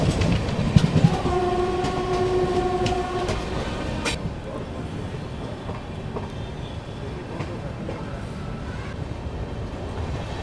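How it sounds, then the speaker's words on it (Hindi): The Mahabodhi Express pulls into Aligarh Junction, its horn sounding a steady tone for a couple of seconds near the start before the rolling rumble and clatter of the train carries on alone. "यहाँ पर अभी अपनी महाबोधि एक्सप्रेस पहुंच रही है अपने पहले halt Aligarh junction railway station पर।"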